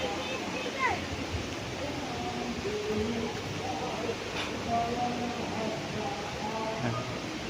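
A river beside a farm lot in Liliw, Laguna rushes as a steady broadband wash of flowing water. Distant voices murmur faintly underneath.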